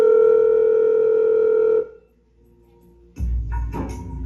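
A steady landline telephone dial tone hums loudly for nearly two seconds as a call is placed, then cuts off into near silence before a burst of louder, rougher noise follows.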